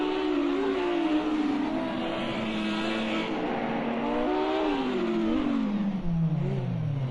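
A Lamborghini Super Trofeo race car testing on the Long Beach track roars loudly and continuously, its engine pitch rising and falling as it accelerates and shifts gears.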